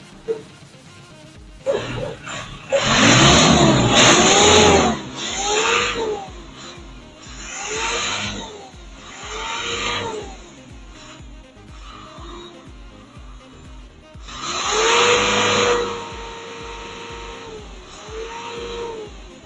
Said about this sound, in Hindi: गाड़ी स्टार्ट की है, गाड़ी की आप आवाज़ सुने, साउंड चेक करें